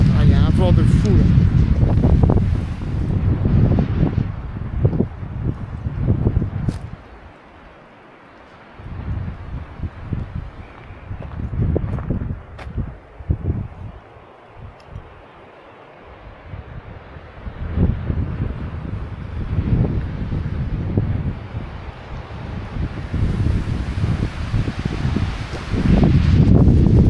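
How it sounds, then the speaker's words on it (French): Strong outdoor wind buffets the microphone in loud, uneven rumbling gusts with rustling, dropping briefly before rising again, while a voice talks over parts of it. "Il y a un vent de fou là."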